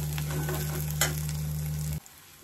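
Turmeric being fried and stirred into a brinjal masala curry on low heat, a steady close sizzle with a constant hum that cuts off abruptly near the end.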